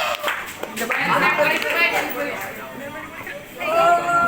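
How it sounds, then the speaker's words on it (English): A class claps for the participants and judge after an English debate, a busy patter of hands mixed with chatter and voices throughout. "So for the participant and the judge, so give a clap for the class."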